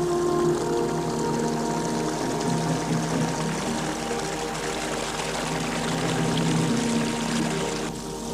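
Cold creek water flowing out of Lake Lilla, a steady continuous rush and pour of running water, close and fairly loud throughout with no voices.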